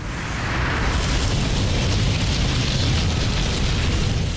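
The dramatized earthquake striking Kobe makes a dense, loud, unbroken rumbling roar, with heavy low boom and broad crackling noise sustained throughout.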